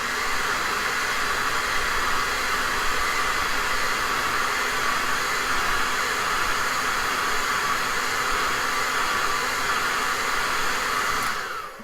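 A hair dryer is blown over fresh paint on a wooden nutcracker, a steady, loud rushing whoosh that holds unchanged for about twelve seconds before cutting off abruptly.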